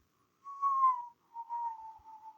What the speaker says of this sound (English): that wind whistling from the corners of your house